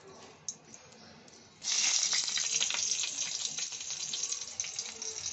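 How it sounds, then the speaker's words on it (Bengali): Green chillies and nigella seeds dropped into hot oil, with near silence at first and then a sudden loud, steady hiss and crackle of sizzling that continues to the end. "কালো জিরে আর কাঁচা লঙ্কা একটা ফোড়ন দিয়ে দিলাম"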